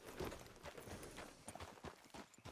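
A horse's hooves clip-clop in a steady trotting rhythm in Red Dead Redemption 2, a quick series of close, distinct thuds over a quiet background.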